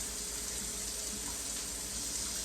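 Cold water pours steadily from a tap into a plastic pitcher, a continuous close hiss and splash with no pauses, heard alone.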